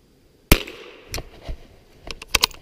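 A .22 rifle fired outdoors in a snowstorm: one sharp, loud crack followed by fainter scattered pops and knocks, with no talking.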